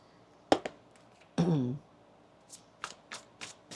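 Tarot cards are shuffled by hand in a few separate bursts: sharp riffles and slaps at close range, with short pauses between them and a brief tonal voice sound in the middle.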